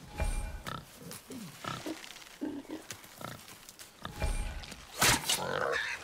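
Deep grunts and snorts from a boar in the video game God of War (2018) come in bursts, mixed with other game sounds and sharp effects.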